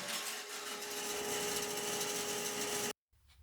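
A bandsaw with a 1/4-inch blade cuts wood as a loud, steady rasping whine close by, then cuts off abruptly when the blade breaks, leaving a brief silence and a faint tail of noise.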